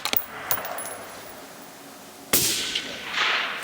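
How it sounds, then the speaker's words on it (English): A rifle fires at a long-range target: a couple of faint snaps early on, then a sharp report followed by a broad, rolling outdoor echo that lingers to the end, with no talk. "Give us 2 shots, Chuck."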